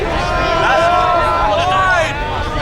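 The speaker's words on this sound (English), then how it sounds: "a crowd of drunk and noisy teenagers has begun to gather" A crowd of drunk, noisy teenagers gathers at a night-time accident scene, a steady babble of many overlapping voices with shouts and calls rising throughout.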